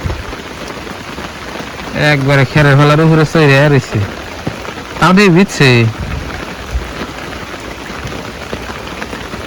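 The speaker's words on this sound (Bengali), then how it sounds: "আমাদের এখানে তো এই সকাল থেকে বৃষ্টি" Heavy morning rain falls steadily and close by throughout, a constant wash of drops on surfaces, with someone talking over it in two short bursts.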